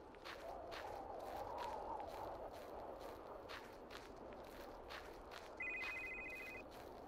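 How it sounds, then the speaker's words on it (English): Footsteps patter steadily through a horror video game, and about two-thirds of the way in a telephone begins a loud, steady electronic ring that lasts about a second over the steps. "As I avoid this goddamn phone."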